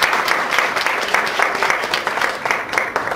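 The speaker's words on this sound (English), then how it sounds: "so let's give Nadia a round of applause" An audience at an inspirational talk breaks into steady, dense applause, many hands clapping together at an even level for the whole stretch with no voices over it.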